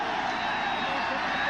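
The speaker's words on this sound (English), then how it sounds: "Listen to this crowd." A stadium crowd at a 1981 Chargers vs Chicago football game, heard as a dense, continuous roar of cheering that holds at a steady loudness throughout, with no pauses.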